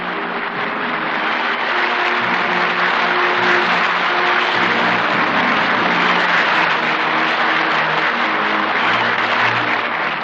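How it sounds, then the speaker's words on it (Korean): A crowd of about three thousand guests stands and applauds the new president at a Korean presidential inauguration ceremony as a victory song plays. A loud, continuous roar of clapping blends with the music on an old, muffled recording. "모두 일어서서 환영의 박수를 보냈습니다"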